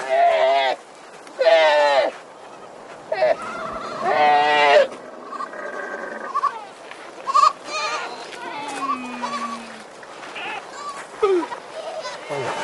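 Goats and sheep bleat repeatedly in a Sahara desert camp where a camel herd is also kept, loud wavering cries coming close and clear, with quieter animal calls and voices murmuring in the background.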